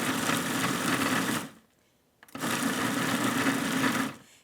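No-bake brownie ingredients whir in an electric mixer or processor in two loud, steady bursts separated by a short pause.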